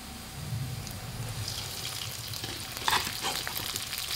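Rice fried into sinangag sizzles steadily in a pan indoors, with a brief louder crackle and scraping stir near the end and no talking.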